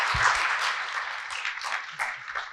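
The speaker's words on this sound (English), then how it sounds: "let's give another round of applause for Xiaoyu and her team" Audience applause at the IEEE VIS 2022 conference, honouring a team after their honorable-mention paper talk; a steady wash of clapping from a large hall, moderately loud and even, fading slightly toward the end.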